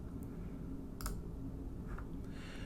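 A single soft click from a computer mouse sounds once over steady low room hum, with a fainter tick or two around it.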